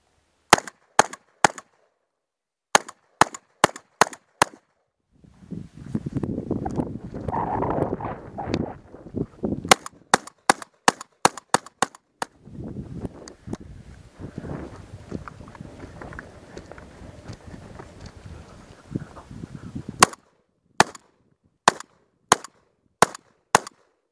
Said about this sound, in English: Mossberg 930 XPS, semi-automatic.